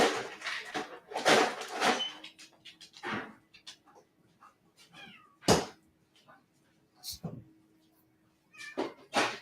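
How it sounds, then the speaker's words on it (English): A pet cat meows several times at close range during a home live stream, short wavering cries scattered through the clip among knocks and background talk. "And he has a cat too. That's what you just heard."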